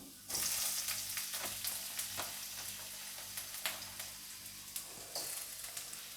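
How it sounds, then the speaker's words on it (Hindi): Green chilies are sautéed with onion and garlic in a pan, giving a steady close sizzle with occasional spatter and pops, and no voice over the frying. "सब्ज़ मिर्चों को हल्का सा भूनेंगे"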